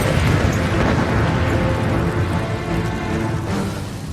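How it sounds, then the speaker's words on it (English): A gunpowder store at the Tower of London explodes during the Great Fire, heard as a sustained, loud, deep roaring rumble lasting several seconds with no voices. "it's going to go up in one vast, terrifying explosion"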